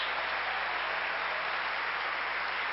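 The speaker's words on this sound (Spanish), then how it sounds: "Ese aplauso fuerte al que vive, aleluya." A church congregation applauds during a Sunday service, a continuous even roar of many hands clapping with no voices on top.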